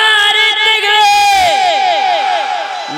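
A large crowd at an Islamic religious gathering in Basirhat shouts a loud, drawn-out takbir chant in unison, the massed voices swelling and rising together as a single sustained roar.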